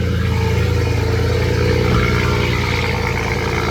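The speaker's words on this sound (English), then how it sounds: "Start my car from now, cause this shit about to be loud as hell." A BMW F30 340i with a new mod runs loudly close by, a steady deep engine roar holding at high revs without a break for the whole moment.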